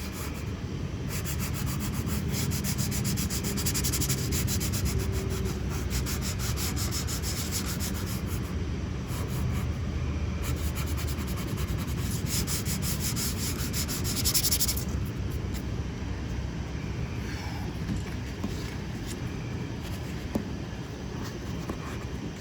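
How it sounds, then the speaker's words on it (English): A flat sanding block with 180-grit paper rubs steadily back and forth over body filler on a Camaro, giving a continuous close raspy scrubbing with no talk. "Let's see if we can get it with the flat block like that."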